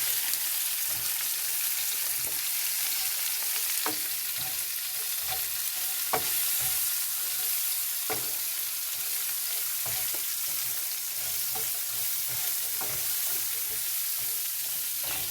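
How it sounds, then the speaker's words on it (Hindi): Capsicum, onion, salt, chaat masala and garam masala sauté in a hot pan for chicken malai kebab, with a steady broadband sizzle and regular stirring scrapes and clicks throughout, close and continuous with no talk. "थोड़ा सा इनको ज़रा सौते करेंगे सब्जियों को"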